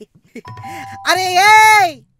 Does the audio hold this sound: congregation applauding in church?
no